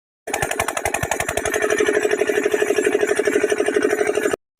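A steady, loud engine chugging with a rapid regular pulse, close up, running continuously for a few seconds before cutting off.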